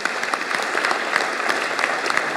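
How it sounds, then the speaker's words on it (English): Audience applause fills a hall, dense and even clapping from a crowd at a talk, steady and fairly loud for its full short length with no voices. "A round of applause for Ground Zero."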